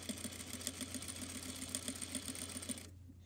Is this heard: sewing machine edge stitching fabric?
yes